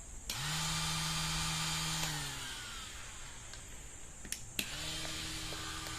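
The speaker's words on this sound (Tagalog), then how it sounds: "12 volts lang siya. Pero mahina yung ating grass cutter." Cordless electric grass trimmer powered from a 12-volt supply, whirring up with a steady motor whine for about two seconds, winding down, then restarting near the end; close and moderately loud, with no talk.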